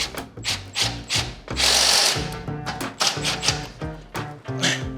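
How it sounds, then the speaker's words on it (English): An impact driver snugs up bolts on a coal cart under assembly, giving short repeated bursts of whirring and rattling hammering with brief pauses between them, loud and close, with no talking. "Gonna go through with my wrench and my impact."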